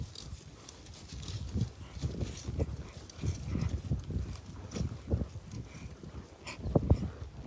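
Hooves of a horse being ridden along a ranch trail, soft irregular clip-clop steps in a close, uneven rhythm with faint outdoor background.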